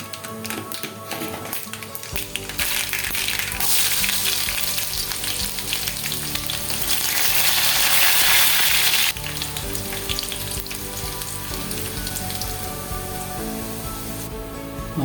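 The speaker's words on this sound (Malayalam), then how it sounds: "ഇതിലേക്ക് ഇനി കടുക് താളിച്ച് കൊടുക്കാം. ചീനിച്ചട്ടി വെച്ച് കൊടുത്തിട്ടുണ്ട്. നമുക്ക് വെളിച്ചെണ്ണ ഒഴിച്ചു കൊടുക്കാം." Mustard seeds tempering in hot coconut oil in a small pan for a pumpkin and cowpea curry, a steady loud close sizzle with dense crackling pops that swells in the middle and stays continuous throughout.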